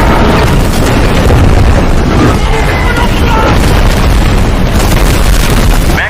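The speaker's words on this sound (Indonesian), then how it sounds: "datanglah serangan dari Amerika dengan menjatuhkan bom-bom untuk melumpuhkan senjata para tentara Cina ini" American bombs dropped on Chinese artillery troops, exploding in a loud, dense, continuous rumble of blasts and crackling debris that fills the whole stretch without a break.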